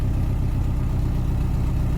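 A 2005 Subaru WRX wagon fitted with an HKS flat flange downpipe and stock catback idles with a steady, deep, loud rumble, close and unbroken, with no voices.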